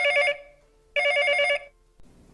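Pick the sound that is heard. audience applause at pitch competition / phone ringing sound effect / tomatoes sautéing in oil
phone ringing sound effect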